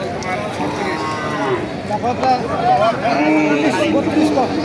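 Cattle moo several times, loud and close, amid crowd chatter and general noise at a cattle market in Thakurgaon, Bangladesh.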